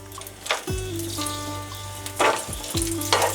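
Whole cardamom, cloves, cinnamon and bay leaves crackle and sizzle in hot oil for an egg korma while a spoon stirs them, giving a steady close frying hiss with a few scraping strokes.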